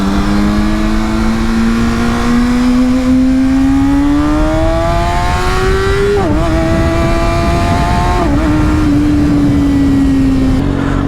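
A 600-class sportbike engine revs loudly and up close, its tone climbing steadily, dipping sharply twice with throttle changes, then holding a high, sustained whine.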